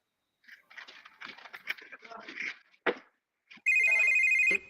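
A telephone rings in a music track, a bright electronic trill entering near the end after a stretch of rapid talking, loud and close.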